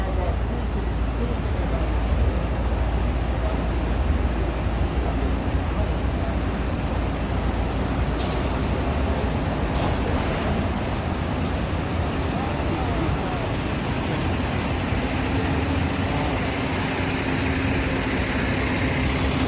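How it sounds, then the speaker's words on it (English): Garbage trucks on East 32nd Street near 5th Avenue in Koreatown, New York City, rumble as a dense, constant engine drone. The roar fills a wide band of street noise with no clear breaks. "The garbage trucks, yeah,"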